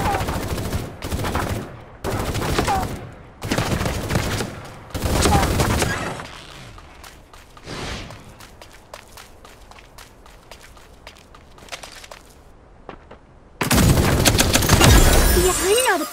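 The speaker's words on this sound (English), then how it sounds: "Shots fired." Gunfire in the mech combat game Super Mecha Champions, with loud rapid bursts and single shots in clusters, a quieter stretch of footsteps and scattered shots, then a heavy sustained barrage at the end.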